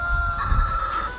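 Young Australorp chickens around eleven or twelve weeks old clucking and calling close by in a farm coop, a short busy stretch over a low background.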